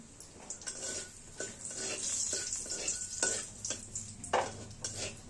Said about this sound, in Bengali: এখানে আমি তেজপাতা দিচ্ছি। গোটা গরম মশলা ফোড়ন দিলাম।